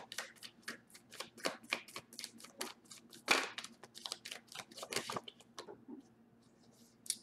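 Tarot cards being shuffled by hand, a close, quiet run of crisp riffling snaps and soft slides repeating in quick succession for several seconds.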